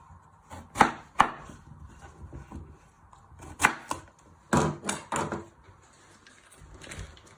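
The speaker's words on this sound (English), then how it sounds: "First step is to chop your ends off your sweet potato." A knife chopping the ends off a sweet potato on a board, with several sharp, separate thuds in small clusters, close and clear against a quiet kitchen.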